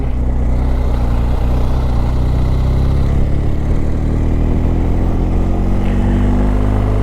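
A BMW GS 1250 motorcycle engine drones steadily while riding, a loud continuous mid-pitched hum with rising tone as revs climb, no talking over it.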